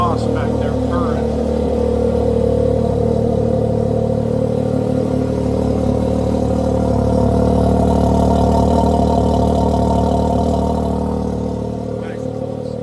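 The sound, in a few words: Can-Am X3 engine idling with GGB exhaust after cold start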